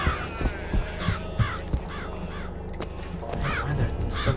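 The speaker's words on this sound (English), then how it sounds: "Why are there so many freaking birds?" Crows caw repeatedly in the Bioshock Infinite video game, with several harsh calls spread across the scene over a steady background of game ambience and low rumble.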